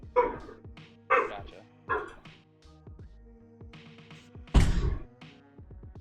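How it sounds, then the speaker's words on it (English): Dogs in a neighborhood bark in several sharp separate bursts, fairly close, with a brief spoken word in between. "there's a couple of dogs that bark around the neighborhood."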